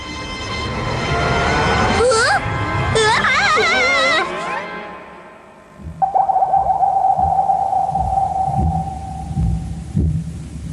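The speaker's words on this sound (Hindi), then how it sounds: "ये तारों के रोने की आवाज है।" A cartoonish high whistling wail with wobbling pitch, then a sustained tone over soft rhythmic thumps, like a whimsical crying effect.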